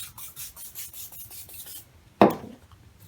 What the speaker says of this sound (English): using WD-40 as cleaner, kind of, and scrubbing